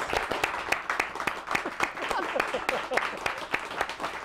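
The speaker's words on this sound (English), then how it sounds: "Give yourself a round of applause." Studio audience applauding a talk show's hosts, a broad wash of many hands clapping at moderate level, with a few louder individual claps standing out and faint voices mixed in.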